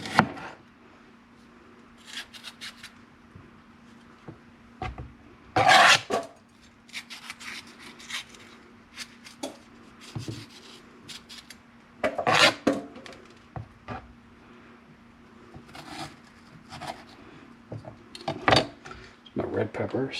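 A knife slices red bell peppers along their seams on a cutting board for homemade salsa, giving a few sharp cuts and scrapes spaced apart, with a person talking between them.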